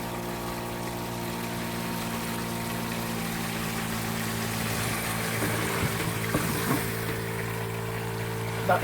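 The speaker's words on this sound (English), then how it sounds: "Hot water" Hot water runs from a shower in a cabin with the boiler fired up, a soft steady spray beneath a constant low mechanical hum, with faint splashing and trickling changes toward the end.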